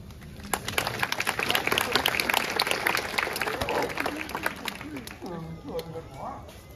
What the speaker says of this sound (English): Okay, applause to you.